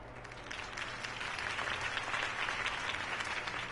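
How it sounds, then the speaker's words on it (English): A crowd applauds after a campaign speech in Batman: The Telltale Series, a dense, steady wash of clapping heard at a moderate distance, with a low hum underneath. "If only Mr. Wayne, my campaign's largest backer, could have heard that applause"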